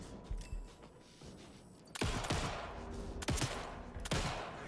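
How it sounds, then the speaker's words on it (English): Gunfire in the Cyberpunk 2077 Phantom Liberty video game, a few loud, sharp shots with crackling tails and bursts of rapid fire after quieter mechanical clicks, close and punchy. "Vicious sounding gunshots."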